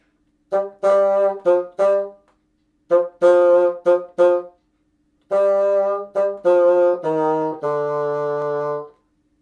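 A bassoon plays a short syncopated melody alone, with clipped accented notes, brief pauses between phrases, and a longer held low note at the end.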